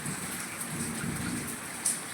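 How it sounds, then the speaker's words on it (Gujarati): Steady rain falling outdoors during a monsoon shower, a soft continuous patter with a brief louder drop near the end, no voices. "મિત્રો, વરસાદ ચાલુ થઈ ગયો છે."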